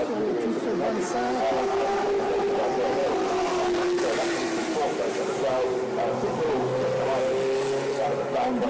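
Lotus 25 historic Formula 1 race car engine at the Monaco Historic Grand Prix, a steady sustained engine drone with gradually shifting pitch, heard under continuous commentary speech.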